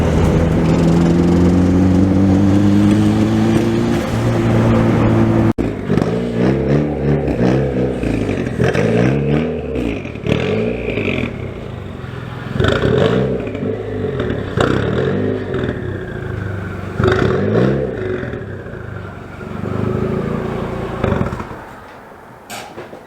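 An untuned Honda Prelude drives in third gear, its engine droning loud and close. The engine note rises and falls in repeated surges, with rattling and clatter, and the sound fades toward the end.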